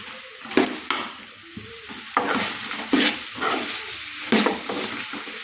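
Chicken fries with masala powders in a pan, a steady sizzle punctuated by rhythmic scraping and stirring strokes roughly every second, close and clear with no talking.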